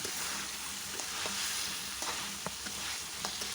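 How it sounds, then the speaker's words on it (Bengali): Beef curry cooks in hot oil in a pot while a spoon stirs it, a steady sizzle running throughout with soft periodic scrapes and taps of the utensil up close. "এখন একটু নাড়াচাড়া দেবো"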